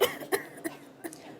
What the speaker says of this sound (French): Vous toussez très fort.